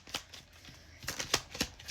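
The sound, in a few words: shuffling tarot cards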